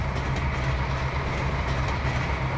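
A freight train rolls past in the Trainz 2022 rail simulator, with a steady loud rumble and a rhythmic clickety-clack of wheels over rail joints.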